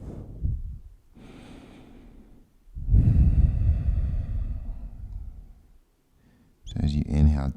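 Deep breathing during a yoga session, several slow inhales and exhales through the nose with a snort-like catch, close and moderately loud with pauses of near silence between breaths.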